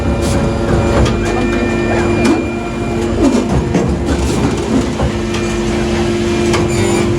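A book printing machine runs at a printing plant, a loud dense mechanical clatter with steady whine and repeated rhythmic knocks and thumps throughout, close by, no talk.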